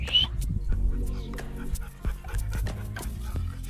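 A dog pants rapidly and closely, quick breathy puffs with a brief whimper at the start.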